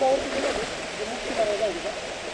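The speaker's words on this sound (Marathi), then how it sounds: "हे ओढा तयार झालेला आहे" A rain-fed stream rushes steadily at Vasai fort during monsoon rain, a close, continuous broadband wash of flowing water with someone talking over it.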